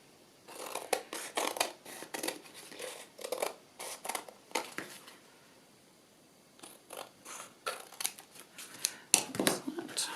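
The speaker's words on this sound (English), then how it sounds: "from the back I'm just going to cut off the excess paper" Repeated crisp snips of scissors trimming excess paper from a decoupage tag, short bursts in irregular clusters with brief pauses, close and clear.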